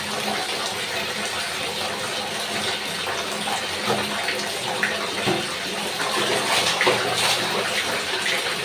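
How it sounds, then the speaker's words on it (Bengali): Clothes are washed by hand with soap and plenty of water, producing a steady, loud rush and splash of water that continues throughout. "সাবান লাগলে সুন্দরভাবে ধুয়ে উঠে পরিষ্কার করে নেব"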